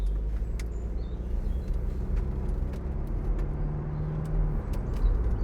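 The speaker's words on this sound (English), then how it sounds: "So I'll just drive down the road and a bit up the dual carriageway." A 2012 Mercedes-Benz SLK250 CDI diesel roadster driving along a road, heard from inside as a steady low engine and road rumble with faint rattles and ticks, continuous and even throughout.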